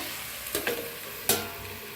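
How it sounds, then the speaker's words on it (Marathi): Spring onion greens cook in a pan with a soft, steady sizzle, broken by a couple of brief clatters, like a lid being handled over the pan. "आता थोडंसं झाकून शिजवूया।"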